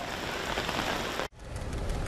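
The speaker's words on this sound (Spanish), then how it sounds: "en Londres llovió durante el primer día de trabajo de Truss al frente del país" Steady rain falls in London, a dense, even hiss of drops that cuts out for a split second near the middle and then resumes at the same level.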